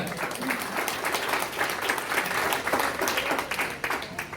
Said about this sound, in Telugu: మనమందరం కూడా ఈ స్థలము బాగుంది, చక్కగా ఇక్కడ ఉంది అన్నవారు ఒకసారి గట్టిగా చప్పట్లు కొడతారా?